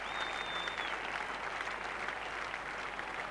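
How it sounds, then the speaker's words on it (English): Cricket crowd at The Oval applauding Javed Miandad's century during the 1987 England v Pakistan Test, an even wash of distant clapping across the ground, with a faint whistle near the start. "Applause from JAVED, from his teammates."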